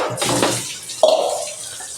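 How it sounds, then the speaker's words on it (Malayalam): Water poured into buttermilk in a cooking pot, a brief gurgling splash followed by a short clink and a fading pour, close and fairly loud, no speech. "വെള്ളം അവിടെ ചേർക്കും."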